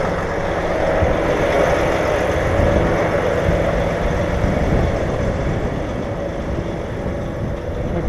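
A heavy haul truck engine idles with its PTO engaged at 850 RPM, a steady, loud, low rumble that holds even throughout.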